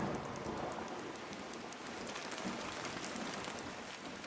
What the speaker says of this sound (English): It falls onto the Amazon with the rain.